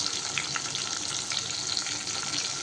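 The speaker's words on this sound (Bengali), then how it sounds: "টমেটোটা একটু নাড়াচাড়া করে নেব" Chopped tomatoes fry and get stirred in an oiled pan, a dense, even sizzle with faint scraping that holds steady and close throughout, with no one speaking.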